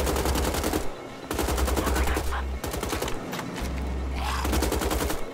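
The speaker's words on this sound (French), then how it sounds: "Donc là, on a une autre mitrailleuse" Machine gun fire in the video game Wolfenstein: The Old Blood, loud and close in several rapid bursts of rattling shots separated by short pauses.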